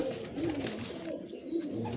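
A pair of Benarasi pigeons coo in low, wavering rolls close at hand, the calls repeating over a steady noisy background with no voices.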